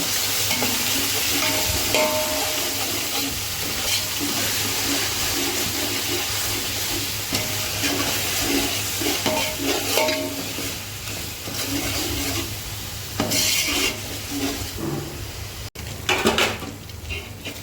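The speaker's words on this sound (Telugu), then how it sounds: "చూసారా మంచిగా వేగుతుంది." Ginger-garlic paste and spices sizzle and fry steadily in a pan for bagara rice, a continuous close hiss with occasional stirring scrapes and utensil knocks.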